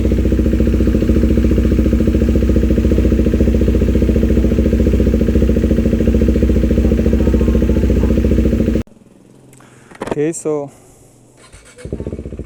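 A KTM 390 motorcycle engine idles loud and close with a steady, slightly choppy throb for about nine seconds, then cuts off as a voice speaks over a quieter background.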